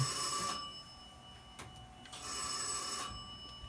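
An old telephone company exchange bell rings with a 1000 hertz tone modulated at 20, in two bursts of rapid metallic trilling, separated by a short quiet gap, fairly faint and distant.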